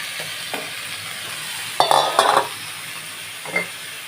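Potatoes fry in a pan with salt and onion under a low steady sizzle, broken by a few sharp spatula scrapes and clanks against the pan, close and without talk.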